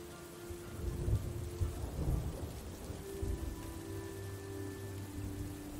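Heavy rain pours steadily while low thunder rumbles and rolls underneath, swelling in a few dull surges across the stretch.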